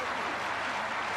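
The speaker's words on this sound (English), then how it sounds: "Crowd trying to lift Argentina back into this contest, down by 10." Rugby stadium crowd cheering and roaring in a steady, dense wash at an Argentina versus Australia Test match, continuous and loud throughout with no break.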